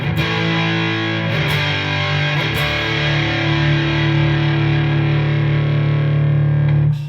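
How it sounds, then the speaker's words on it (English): A sustained electric guitar chord through an Analog Man Sunface fuzz pedal rings out loud, thick and heavily fuzzed, with a couple of quick restrikes early before it holds and slowly fades. "this Analog Man Sunface Fuzz, beautiful thing"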